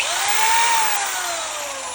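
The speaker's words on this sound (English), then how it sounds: "And this is a Jiffy mixer, and they're really nice because they don't fling glaze everywhere." A Jiffy mixer spins at 2,000 RPM while stirring glaze in a glaze room, giving a loud, steady high-pitched drill-like whine with a gently sliding motor tone that holds for the whole two seconds.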